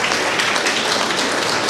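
Audience applauding a student at a school felicitation ceremony for 10th and 12th grade achievers; a dense, loud wash of clapping from a large crowd, continuous and close, with no talk.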